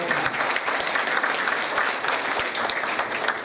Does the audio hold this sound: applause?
yes